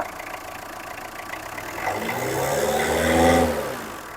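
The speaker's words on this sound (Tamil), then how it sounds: "ரேஸ் பண்ணு." A used car's engine idles and then is revved, rising to a louder, swelling roar in the middle before easing back; close and alone, with no talk.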